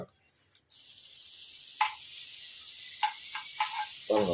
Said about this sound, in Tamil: தவா மேலே பட்டர் போட்டாச்சு